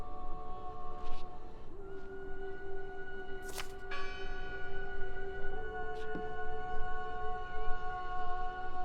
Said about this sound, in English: Listen! The bell!